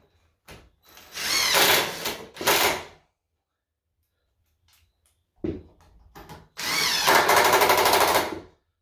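Power drill driving screws to join wooden window trim casing pieces during a DIY window trim install, two short bursts of whirring, then a pause and a longer burst near the end.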